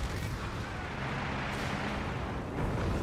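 An aircraft strafing run in Company of Heroes 3 against Sherman tanks, a dense continuous roar of rapid gunfire and blasts filling the whole stretch, loud and unbroken, with a slight surge near the end.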